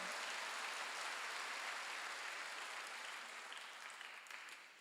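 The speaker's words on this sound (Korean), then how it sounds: "박수로 하나 들으시고 성령을 사모" A church congregation claps together during a Sunday worship service, a dense steady patter of applause that slowly fades toward the end, somewhat distant and soft.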